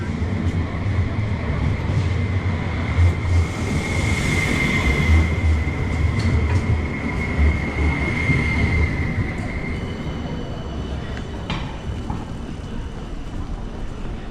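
A tram runs along the main shopping street in Saint-Étienne, France, its loud rolling rumble passing close with a sustained metallic wheel squeal and some clicking over the rails, and no talk.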